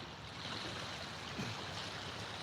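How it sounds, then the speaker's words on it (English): Water rushes along in a constant broadband roar like a stream or small cascade, steady and unvarying, heard at a fairly low level outdoors. "The water's loud?"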